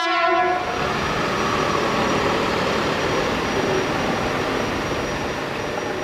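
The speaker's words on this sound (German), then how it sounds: "Im Laufe des Tages kommen hier alle eingesetzten Züge mindestens einmal vorbei." A narrow-gauge train horn sounds briefly at the start, then a loud, steady roar of a narrow-gauge train rumbling past up close, with no voices.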